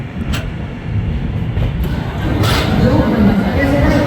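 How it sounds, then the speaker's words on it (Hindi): Seemanchal Express pulling into Katihar Junction, a steady low rumble of rolling wheels and carriage noise that grows slightly louder, with faint voices underneath. "बाकी कटिहार जंक्शन में हमारा अराइवल हो रहा है।"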